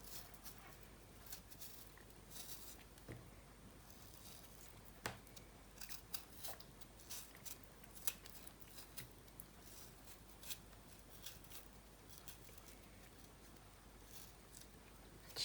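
Kiwi fruit being peeled for juice gives a quiet, steady run of small scraping and clicking sounds close by, with no speech.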